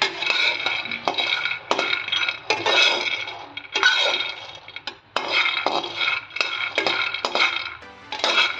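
Peanuts are dry-roasted and stirred in a pan over a medium flame, making a close run of dry rattling, clinking scrapes in irregular bursts, with no talk.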